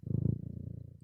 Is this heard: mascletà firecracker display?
no